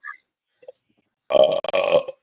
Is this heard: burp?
yes